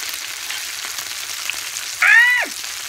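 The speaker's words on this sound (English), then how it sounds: "It's frying!" Steady sizzling of ramen noodles frying in a hot pan, continuous and close, with a brief sharp squeal partway through.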